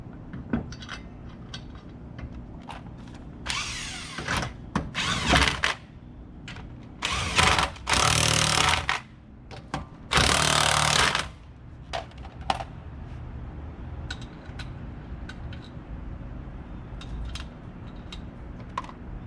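Impact wrench tightening lug nuts on a Cadillac Deville wheel, several short loud hammering bursts of a second or so each, separated by quieter clicks and shop background, close by.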